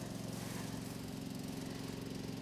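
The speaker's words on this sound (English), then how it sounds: "And at that minute, we have the tractor man just going away." A tractor works on a campsite, its low droning engine holding a steady rumbling hum at a distance, fairly faint and unbroken with no voices over it.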